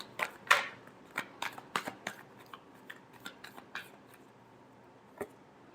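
Tarot cards shuffled by hand in a final shuffle before a reading: a rapid riffling burst near the start, then scattered soft flicks and taps of cards spaced out over several seconds, close and fairly quiet.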